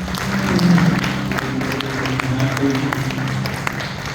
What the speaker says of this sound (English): Let's give a clap offering to God.